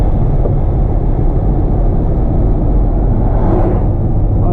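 A 650 hp supercharged Corvette with open exhaust drones loudly and continuously from inside the car while driving, a heavy low rumble with no talking.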